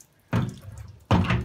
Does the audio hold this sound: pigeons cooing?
no